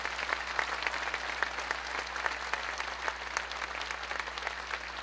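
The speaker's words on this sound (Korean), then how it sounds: "우리 젊은 민족음악가들에게 다시 한번 큰 박수 부탁드리겠습니다." Steady applause from a crowd at a Korean traditional music performance, dense clapping sustained throughout at moderate distance, with no talking over it.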